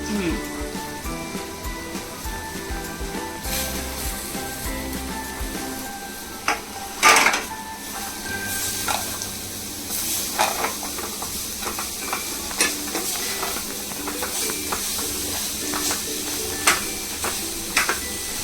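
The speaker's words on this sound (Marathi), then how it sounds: "जे तुम्ही आपण उकडून घेतलेला आहे फणस तो बारीक केलाय तो तुम्ही आता टाकताय" Boiled, finely chopped jackfruit tipped into a hot pan and stirred, with soft hissing steam, scraping and clatter under intermittent conversation between two people.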